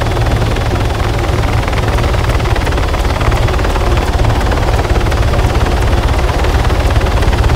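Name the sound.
helicopter flying in video game Arma 3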